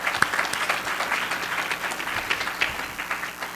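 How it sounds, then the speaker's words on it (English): An awards gala audience at TiEQuest 2012 gives steady, sustained applause, a dense wash of clapping hands from a full room that holds at an even level throughout. "If I could get another round of applause."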